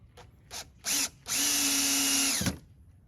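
A power drill drives small screws into pilot holes while building DIY ghost trick-or-treaters: two short taps and a brief burst, then one sustained whirring run of about a second, close and loud, with no talking.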